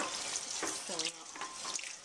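Tap water running into a large bowl to soak broccoli, a steady broadband rush of filling water heard close up through the whole short stretch, with a brief voice sound in the middle.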